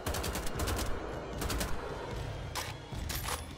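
Rapid bursts of gunfire in the video game Wolfenstein: The Old Blood, from its 1940s Nazi-occupied setting, with dense crackling volleys coming in clusters and brief lulls between them, loud and close throughout.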